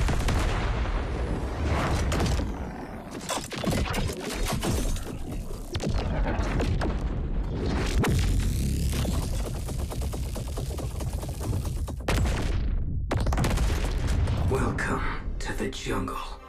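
Gunfire and explosive booms in the mobile shooter Free Fire, with bursts of shots, crashes and rumbling impacts throughout, mixed with game music and a voice talking over much of it.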